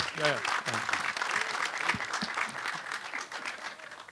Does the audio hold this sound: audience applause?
yes